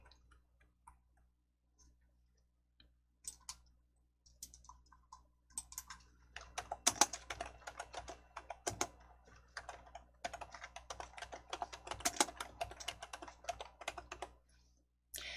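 A computer mouse clicks during work in PowerPoint: faint, close, irregular bursts of clicking that start sparse and then turn busy and clustered, with no voices.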